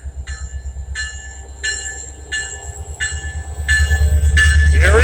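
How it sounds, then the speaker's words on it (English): A flag-stop train near Talkeetna, Alaska rumbles along the tracks with a rhythmic low thumping of wheels, while repeated bright screeching tones rise above it and grow louder toward the end. "That's right! We're catching a train!"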